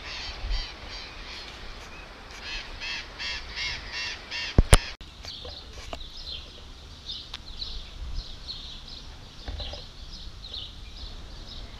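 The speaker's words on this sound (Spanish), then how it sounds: "ya vemos también gran cantidad de loros en sus barrancas." A large flock of burrowing parrots calls along riverside cliffs, with a dense run of harsh screeches early, then scattered fainter, more distant calls under a steady outdoor background, plus a couple of sharp clicks midway.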